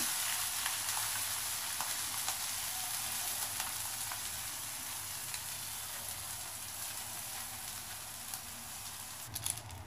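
Five packets of noodles with vegetables fry in a hot pan, giving a steady, loud, broadband sizzle that holds evenly throughout, with a few clinks near the end and no talking.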